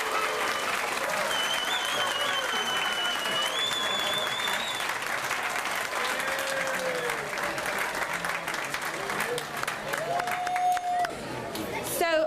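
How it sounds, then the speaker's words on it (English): At a Dads Take Your Child to School Day program at Norton Elementary, the crowd gives a long, full round of applause for Chancellor Lyons and Coach Dungy, with scattered cheers and a few whistles mixed in. "Let's give them all a nice big round of applause and thank them."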